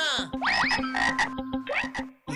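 A cartoon frog croaks in a quick series of sharp, rhythmic croaks with a rising chirpy call mixed in, close and clear, with no talk.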